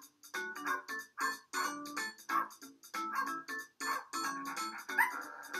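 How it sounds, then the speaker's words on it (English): Synthesized dog growl from the Giga Pets Explorer handheld virtual pet game, heard as repeated short bursts of electronic tones in an uneven, choppy rhythm, played alone. "Oh, see? It's just growling."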